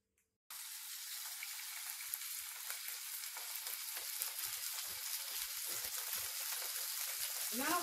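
Beef burger patties sizzle in a hot pan, a steady, fairly quiet frying crackle that starts abruptly after a brief silence and continues evenly throughout.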